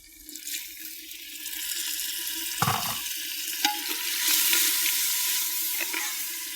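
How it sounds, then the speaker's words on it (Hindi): Tomatoes and green chillies fry in masala for chicken handi, a constant hissing sizzle close by, broken by a few clinks and scrapes as the pan is stirred. "दो मिनट तक इसमें इसको अच्छे से फ्राई करना है"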